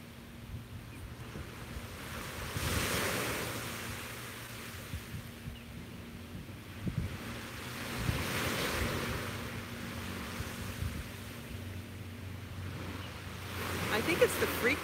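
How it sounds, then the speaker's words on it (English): Ocean waves rolling onto a beach at sunrise, breaking in slow, widely spaced swells with a steady wash and some wind noise between them, heard alone without talk. "I think it's the frequency of the waves that sounds so relaxing today."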